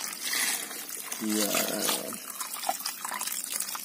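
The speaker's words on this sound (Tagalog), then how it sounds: "lagyan na natin ng tubig" Water is poured into a pot of grated coconut at an outdoor cooking setup, a trickling, splashing pour heard under a person speaking, with a short tonal sound midway.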